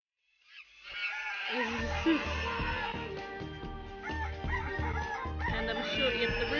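A rooster crows in the Toca Dance video game amid a busy layer of other animal noises and chirps, goose-like honks and clucks stacking up into a dense, continuous game soundscape after a brief silent start.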